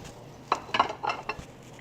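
A spoon scrapes and clinks against a pot while stirring smoked turkey split pea soup, several quick metallic taps and scrapes bunched together, close and fairly loud, with no talking.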